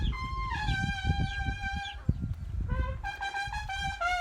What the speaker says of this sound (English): that's where Kiki's chickens are